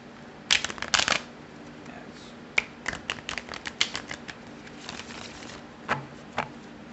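Tarot cards being shuffled by hand, with quick riffling bursts of papery clicks followed by scattered softer card taps and slides, close and alone without talk.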